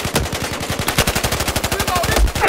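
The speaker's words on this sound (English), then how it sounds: "Someone's shooting at me." Rapid automatic gunfire in Battlefield 4, a loud, steady stream of closely spaced shots rattling for a couple of seconds with no talk over it.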